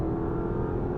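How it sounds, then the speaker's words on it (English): Loud, continuous engine roar from a 2017 Porsche Panamera Turbo with a PDK gearbox accelerating under throttle, holding steady without any break in power throughout. "So as you gas it, right, it never cuts power."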